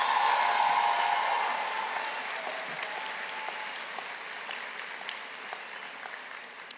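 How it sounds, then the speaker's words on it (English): Graduates at a community college commencement ceremony clap loudly together, the applause strongest at first and then settling into a steady, slightly quieter patter with a few scattered louder claps near the end. "Now please take a moment to give yourselves a hearty round of applause."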